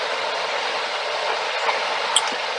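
A passenger train travelling toward Jogja, heard as a loud, steady rushing roar of wheels on rails with faint clicks and one brief high squeal near the end, and no voices.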